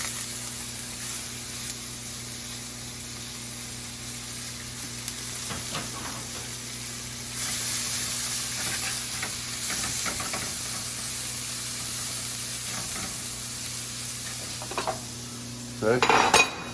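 Onions sizzle and fry in a pan during Rasta Pasta cooking, a steady hiss running throughout with occasional clinks of utensils against the pan and a brief louder clatter near the end; no one speaks.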